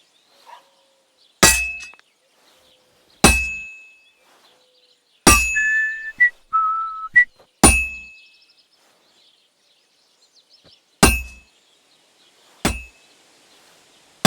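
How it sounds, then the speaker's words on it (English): A blacksmith's hammer strikes a heated sword on an anvil in Kingdom Come: Deliverance 2, sharp ringing metallic clangs spaced a second or two apart, about seven in all, each ringing out briefly, with a few faint tonal chimes in between and no talk. "Now take the hammer and try hitting it a few times."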